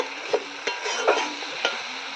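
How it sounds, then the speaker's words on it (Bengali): Spices fry in oil in a pan while a spoon stirs them, with four sharp scrapes landing at irregular intervals over a steady close sizzle. "তো মশলাটা প্রায় ভাজা হয়ে গেছে"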